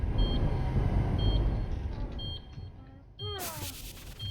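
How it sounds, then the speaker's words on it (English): Electronic beeps from the video game Pizza Tower, heard as short tonal bleeps over a busy noisy game backdrop, followed near the end by a louder burst of sweeping tones. "All we hear is beep."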